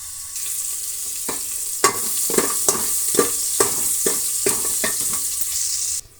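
Onion, curry leaves and mustard seeds fry in hot oil in a pan, a continuous loud sizzle with a series of stirring scrapes, ending abruptly, no speech.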